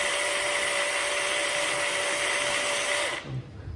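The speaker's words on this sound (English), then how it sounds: "Now you drill carefully 8mm hole." A power drill boring an 8mm hole into a KTM 690 motorcycle fuel pump cover, a loud steady high whine lasting about three seconds before the motor cuts off and spins down.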